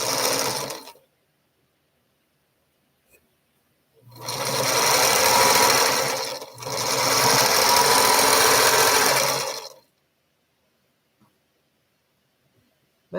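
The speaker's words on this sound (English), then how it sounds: "so used to the sound of your sewing machine" A sewing machine runs in short bursts late at night, first a brief run, then two longer stitching runs of about two and a half and three seconds with a tiny pause between, loud and close, silence around them.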